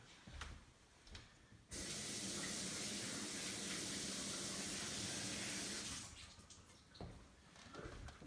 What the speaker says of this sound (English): I rinsed it out.